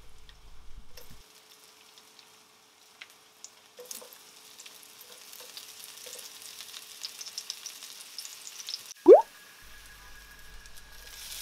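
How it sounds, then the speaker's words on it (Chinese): Scallion, ginger, garlic and chili hit hot oil in a wok and stir-fry with a soft, steady sizzle, a sharp clang of the spatula near the end, then quieter frying. "锅烧热之后加入一些油，先放入准备好的葱、姜、蒜还有辣椒下去炒香"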